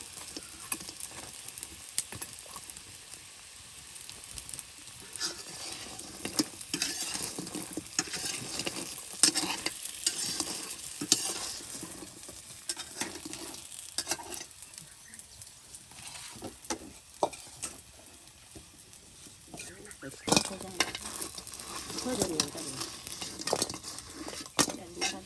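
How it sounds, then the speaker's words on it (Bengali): Mera pitha pieces deep-frying in oil in a village kitchen, a steady crackling sizzle with frequent scrapes and clinks of a utensil stirring against the pot, continuing without a break. "নানি কিন্তু একদম মেরা পিঠার টুকরোগুলো তেলে মসমসে ভেজে নিচ্ছে গো"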